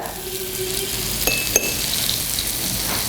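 A spoonful of oil sizzles on a dosa pan with a steady, fairly close hiss, broken by a couple of light metallic clinks partway through.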